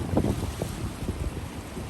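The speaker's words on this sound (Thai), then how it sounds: "ลมแรงมากค่ะ" Strong wind blowing hard across a microphone outdoors on a road trip in Europe, steady low rumbling buffets with gusty bursts, loud and close, no talking.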